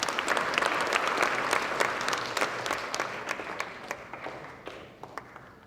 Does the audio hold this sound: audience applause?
yes